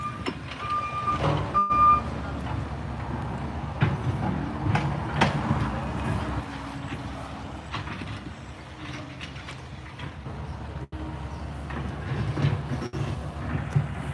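A truck backs up at a house demolition site, its reversing beeps faint amid steady rumbling machinery and site noise, with occasional voices in the background.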